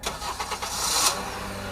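Car engine being started with a turn of the key, a brief cranking stutter of rhythmic chugs that catches into a rising roar as the engine fires, close and alone.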